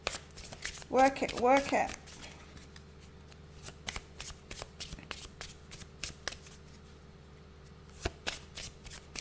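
Oracle cards, a Moonology deck among them, shuffled by hand in a quick riffling burst near the start, followed by scattered soft taps and card handling while someone speaks briefly.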